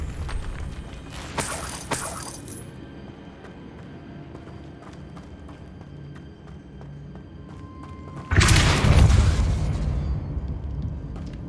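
A Depulso force spell cast in Hogwarts Legacy on PS5, a short burst near the start and a heavy booming blast later with a deep rumbling impact, over game ambience with no talking.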